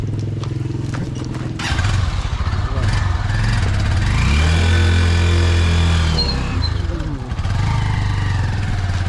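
A vehicle engine on a rural province road passes by, its low rumble swelling to a loud close peak midway and then fading, with talk over it.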